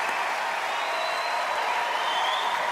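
Talent show audience applauding a dog act on Britain's Got Talent, a dense, steady wash of clapping and cheering from a large crowd that holds at a constant level throughout.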